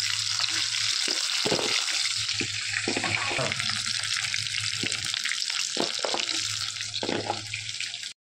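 Chicken pieces fry in hot oil for restaurant-style chilli chicken, giving a loud, continuous sizzle with occasional sharper crackles before it cuts off abruptly at the end.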